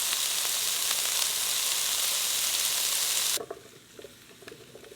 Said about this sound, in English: throw the onion and the garlic in a pan with oil